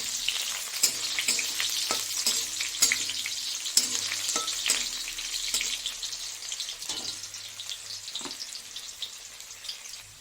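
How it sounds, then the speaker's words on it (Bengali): Potatoes sizzle and crackle steadily in hot oil, with occasional scrapes and clinks of stirring; the frying gradually quiets toward the end. "আগে আলুটা একটু ভেজে নিই"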